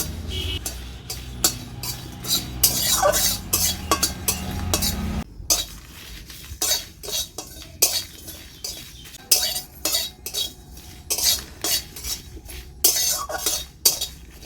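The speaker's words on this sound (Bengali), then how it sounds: "এবার এতে দিয়ে দিচ্ছি কিছু শুকনো লঙ্কা গোটা জিরে মশলাটা আমি হালকা ভেজে নেবো" Whole dried red chillies and cumin seeds dry-roasted in a hot wok, with a steady run of sharp metallic scrapes and clinks from a stirring spoon against the pan, loud and close.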